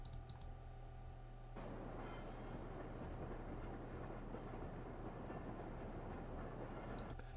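Nighttime ambience for the Midwest train theme in LittleBigPlanet brings in a steady, dense rumbling bed of rail noise with a low hum beneath, running unbroken for several seconds.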